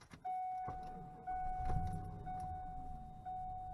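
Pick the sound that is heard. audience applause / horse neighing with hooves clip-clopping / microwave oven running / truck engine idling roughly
truck engine idling roughly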